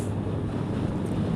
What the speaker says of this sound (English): Oh, I really hope this wind isn't too bad.